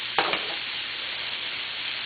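Beef stir fry sizzles in a big, deep, cast iron-style frying pan, a steady close hiss with a couple of sharp stirring clicks near the start.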